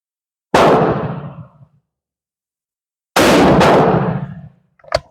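Two loud Krag Springfield rifle shots fired at a range, each a sharp blast with a decaying echo tail, about 2.6 seconds apart, followed by a brief metallic click as the clip ends.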